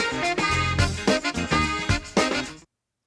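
A melodic music phrase from a song sample plays loudly and alone, several sustained notes in a short rhythmic line, then cuts off abruptly into silence.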